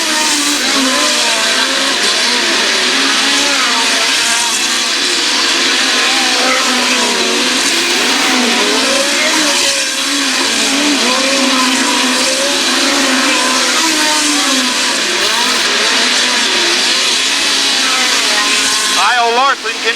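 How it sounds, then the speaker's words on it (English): Midget race cars roar around a dirt raceway during a late-race run, engines loud and sustained with rising and falling whines as the cars pass, while an announcer talks over the noise. "Kyle Larson continues to lead away in car number 71"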